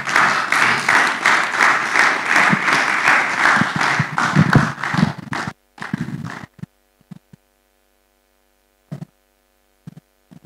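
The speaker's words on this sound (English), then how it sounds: "A round of applause again, and again, and again, and again." Audience applause at a mental health workshop, a loud hall-filling round of clapping for about five seconds that cuts off abruptly, followed by near silence with a few isolated sharp knocks.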